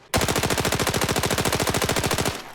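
A rapid automatic burst from a gun in the shooter game Arena Breakout, about two seconds of evenly spaced, very fast shots at close range that cut off abruptly.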